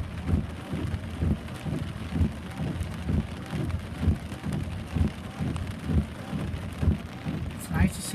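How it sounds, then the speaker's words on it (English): Steady rain falls in Los Angeles with a constant hiss of drops on surfaces, broken by low rumbling gusts of wind that swell and recede in a loose rhythm, heard up close with no talking. "It's nice to see rain in LA."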